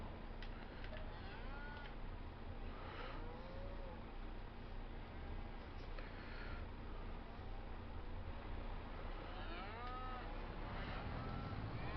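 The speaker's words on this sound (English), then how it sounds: "Oh, look, baby cows." Several beef cattle calves in the video game Farming Simulator 25 moo at intervals over a steady background hum, with a few short, higher calls scattered between the lows.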